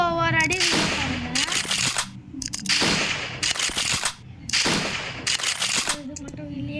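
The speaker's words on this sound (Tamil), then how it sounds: "இப்போ பாருங்க ஸ்னைப்பரில் எப்படி ஆடுறேன்னு" Sniper rifle fire in a mobile shooter game: loud sharp reports, each followed by a noisy tail, repeating at roughly one-second intervals amid game sound effects.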